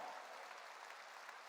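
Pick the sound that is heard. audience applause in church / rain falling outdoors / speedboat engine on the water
audience applause in church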